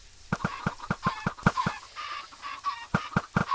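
Chickens in a Minecraft chicken machine cluck in quick repeated bursts throughout, loud and close, with no voices over them.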